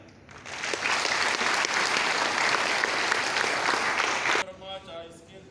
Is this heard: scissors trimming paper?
no